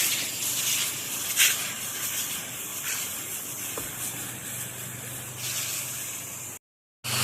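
A pressure washer sprays water while rinsing the siding of a house, a steady broad hiss that runs close and loud without a break before cutting off abruptly near the end.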